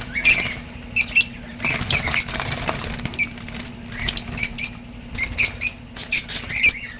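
Caged African lovebirds give sharp, shrill chirps and squawks in quick repeated bursts, close and loud, with wing flutters and cage rustling between calls and a low steady hum underneath.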